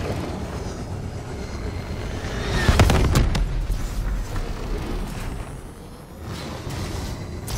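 Hellstorm missile strike in Call of Duty Black Ops III: a sharp, loud explosion cracks near the middle with a rumbling tail, followed by further fainter blasts and impacts over continuous battle noise.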